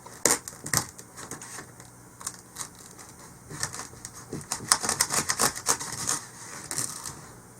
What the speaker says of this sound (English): what you're going to do is you're just going to cut a small strip out of this foam